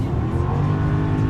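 A Mercedes AMG accelerating hard through a gear shift, a loud, close, continuous engine roar from inside the car, short and unbroken.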